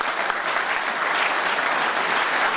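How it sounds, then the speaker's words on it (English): A steady, dense round of applause from an audience at a free-speech event welcoming its speakers, fairly loud and even throughout with no voices over it. "Have a round of applause for all the speakers we have."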